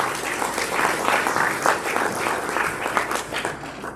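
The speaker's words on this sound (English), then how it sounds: "give Ron a round of applause" Audience applause for treasurer Ron Norman at a community coffee meeting, a steady dense wash of many hands clapping that holds at an even level for the whole stretch.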